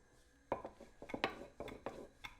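A flat pan set down on a kitchen hob gives several sharp metallic clinks and knocks, close and fairly quiet, spaced irregularly over a couple of seconds.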